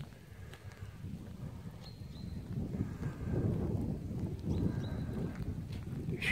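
Steady wind rumbles and buffets the microphone throughout, a low continuous roar that swells slightly toward the end, with faint clopping in the background.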